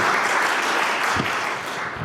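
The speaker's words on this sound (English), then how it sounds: "let's give everybody a round of applause for that" Live-event audience in Austin, Texas claps after a Braver Angels talk; brisk, close applause fills the moment, then tapers slightly toward the end, with no speech over it.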